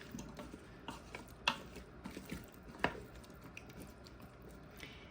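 Spoon stirring a pot of beef stew seasoned with black pepper: soft, wet squelching movements with a couple of louder scrapes against the pot, fairly quiet and close.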